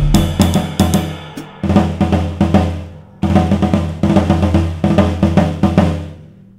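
A floor tom with drum brushes lying on its head is struck repeatedly in quick clusters, each hit sounding rattly and buzzy rather than clean, with short pauses between groups; no talking.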